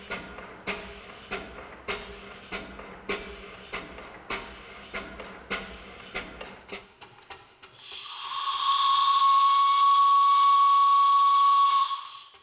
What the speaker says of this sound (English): The whistle sounds a bit better now that the engine has 80 pounds per square inch in the boiler.